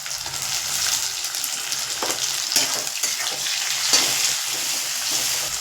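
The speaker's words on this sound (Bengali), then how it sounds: "পেঁয়াজ ভেজে নিয়েছি, টমেটো দিয়ে দিচ্ছি" Chopped tomato goes into frying onions in a pan, a loud, close, continuous sizzle with bursts of crackling and stirring scrapes, no voices.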